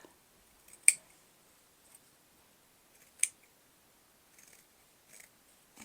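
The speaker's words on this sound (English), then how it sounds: "Trim the corners a bit." Scissors trim the corners of sewn fabric for a storage bin, two crisp close snips about two seconds apart followed by quieter handling rustles.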